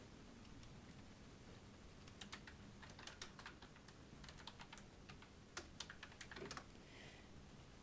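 Quiet keystrokes on a computer keyboard as a track name is typed into music recording software, a short irregular run of soft clicks over faint room hiss.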